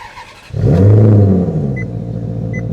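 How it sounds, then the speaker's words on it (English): A 2009 Maserati Quattroporte Sport GTS engine cranks and fires up, with a loud, close rev burst that settles into a steady, rumbling idle. "let's start the engine real quick, just so we hear what this bad boy sounds like"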